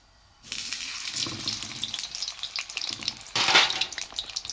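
Tofu hits a hot pan for a Thai basil tofu-and-cheese dish and starts sizzling after a brief silence, a steady close crackling hiss that swells louder near the end, with no talking.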